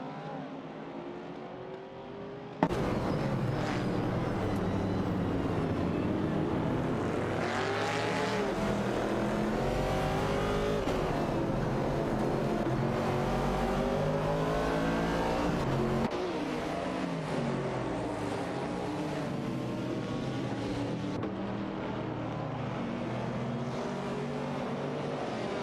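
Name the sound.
Porsche 906 and AMC Javelin racing in a video game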